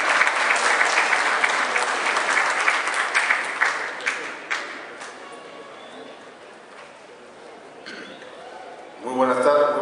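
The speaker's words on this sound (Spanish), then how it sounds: "recibamos con fuerte el aplauso al doctor Richard Martín Tirado." An audience at a national forum on public investment and state procurement in Peru applauds to welcome a speaker, loud clapping that tapers off after about five seconds, with scattered claps trailing and a voice starting near the end.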